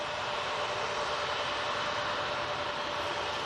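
Vueling Airbus A321neo on its takeoff roll from full length at Manchester Airport, a steady broadband jet roar holding at moderate, fairly distant level with no voices.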